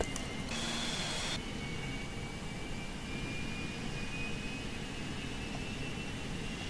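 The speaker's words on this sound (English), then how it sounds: "Now you can hear the engine start spinning right there." A jet engine whines steadily with a broad roaring hiss and a thin high tone slowly rising as it spools up, on a Cessna Citation Mustang in the flight simulator X-Plane 11.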